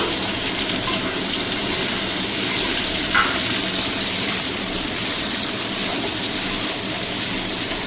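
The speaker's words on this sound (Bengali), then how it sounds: "এবার দেবো আমি পেঁয়াজ আর ক্যাপসিকাম।" Chopped onion and capsicum frying in a pan with garlic for chilli chicken, a steady dense sizzle that stays loud and close throughout without any voices.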